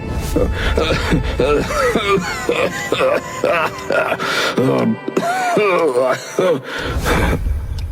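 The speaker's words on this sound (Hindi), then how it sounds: "जोर जोर से खांसी आने लगती है" A man coughs loudly and repeatedly in harsh, rough bursts with throat clearing between them, close by and overlapping with speech-like vocal sounds.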